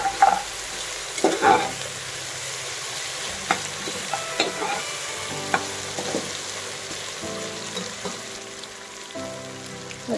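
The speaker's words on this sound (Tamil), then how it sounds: "போட்டு ஒரு கொஞ்ச நேரம் வதக்கிட்டு பச்சை வாசம் போகணும்." Garlic and ground green chilli paste sautéing in a pan for prawn biriyani, giving a steady low sizzle with scattered spoon scrapes and clinks, close and fairly quiet, with no talking.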